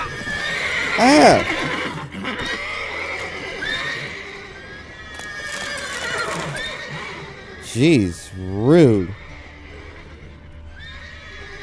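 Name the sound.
horses neighing and hooves in video game The Witcher 3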